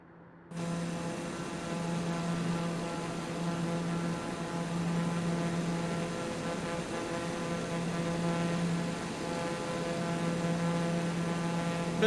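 Steady, droning aircraft engine in Microsoft Flight Simulator 2020, holding a constant tonal hum with a strong low note and layered harmonics, running alone without speech after an abrupt start.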